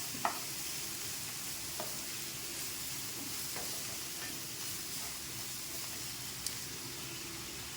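Dried red chillies and garlic fry together in a pan with a soft, continuous sizzle and hiss, broken by a few faint scrapes and clicks of stirring.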